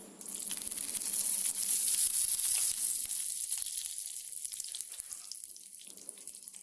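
Curry leaves spluttering in hot oil with dried red chillies in a pan for sweet mango pachadi, a loud steady sizzle and crackle that gradually eases, with no talking.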